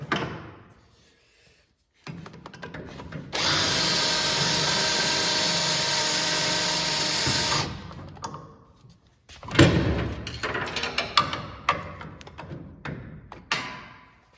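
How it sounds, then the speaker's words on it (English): A power drill drilling out a hole in a New Holland 8770 chisel plow header support arm runs in one steady, high-pitched whine for about four seconds, followed by clattering thumps and knocks nearby. "Drill this out."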